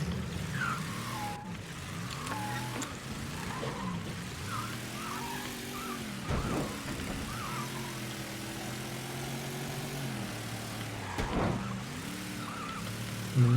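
A car engine idles and revs in Mafia III, a steady low rumble with rising and falling pitch sweeps as the throttle is worked, moderately loud and unaccompanied by talk.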